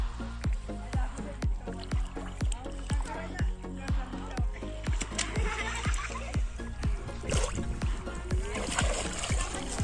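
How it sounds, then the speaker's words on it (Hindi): Children learning to swim outdoors in a river splash through the water with rhythmic strokes, splash after splash, while people talk nearby. "और ये सब अपने अपने तैर रहे हैं।"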